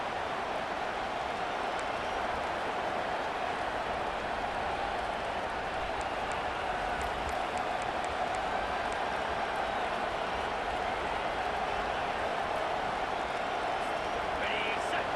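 A home-stadium crowd in EA Sports College Football 25 roars steadily during a third-down defensive stand, a dense, constant wash of cheering that persists throughout, with a commentator talking over it.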